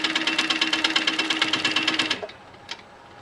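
A home sewing machine stitches a quilt seam in a rapid, steady run of close mechanical pulses for about two seconds, then stops, leaving a faint click and quiet.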